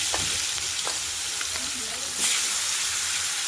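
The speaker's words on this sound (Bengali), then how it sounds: "মাছগুলো আগে ভাজা করে নেবো ভালো করে" Fish frying in hot oil in a pan sizzles loudly and steadily close by, with brief spatters and a louder burst of hissing toward the end, under faint, indistinct voices.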